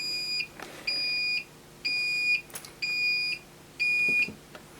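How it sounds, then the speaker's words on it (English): An Akatherm CB315-U electrofusion unit sounds five evenly spaced electronic beeps at power-on, each roughly half a second long and clear and steady, separated by short gaps, with no voices over them. "Beeping with a little man icon."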